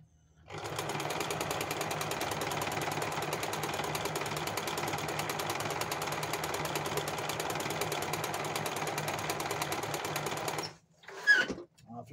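An Elgin Genius sewing machine stitches a half-moon decorative pattern with a fast, steady mechanical chatter for about ten seconds before stopping, followed by a brief clunk.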